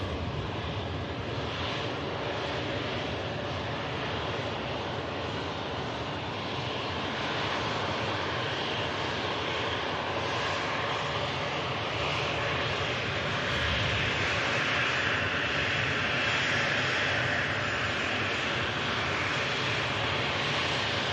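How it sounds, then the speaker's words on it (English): A Loganair ATR turboprop on the Isle of Man return leg departs Manchester Airport, a steady engine drone at moderate distance that swells slightly in the second half, with no voices. "the Isle of Man return leg ATR is now lined up for departure"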